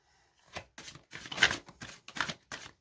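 Tarot cards being shuffled in a series of six short papery riffles and bursts, close and moderately loud, with brief pauses between them and no talk.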